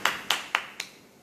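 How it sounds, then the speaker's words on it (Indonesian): Four sharp single hand claps at an even, unhurried pace from one nearby person, each a crisp slap with a short room tail, alone and without voices. "Berikan tepukan kepada anda."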